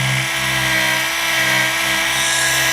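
A mini car polisher (SPTA or HILDA) running at full power, a steady loud high-pitched motor whine with a constant droning hum, close to the microphone and without talk.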